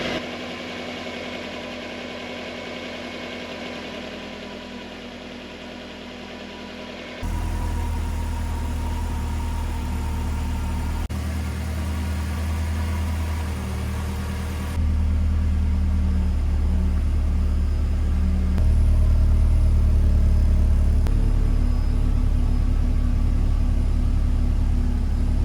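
Subaru Impreza 22B engine idling steadily, a low, even rumble close by that grows slightly louder in steps, with no talking.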